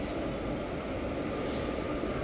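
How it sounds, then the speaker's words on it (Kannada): A Thiruvananthapuram–Kollam passenger train departing from the neighbouring platform at a station, a continuous low rumble of wheels and coaches, steady and fairly close, with no voices. "ಪಕ್ಕದ ಪ್ಲಾಟ್ಫಾರ್ಮಲ್ಲಿ ಡಿಪಾರ್ಟ್ ಆಗ್ತಿದೆ ತಿರುವನಂತಪುರಂ ಕೋಲಂ ಪ್ಯಾಸೆಂಜರು ತಿರುವನಂತಪುರಂಗೆ ಹೋಗ್ತಿದೆ"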